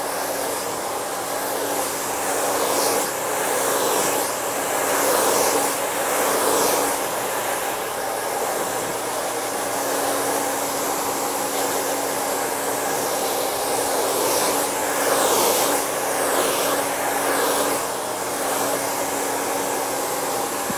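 A handheld hair dryer blows steadily and loudly close by for the whole stretch while hair is dried in a salon, its whirring airflow swelling and easing slightly as it moves around the head.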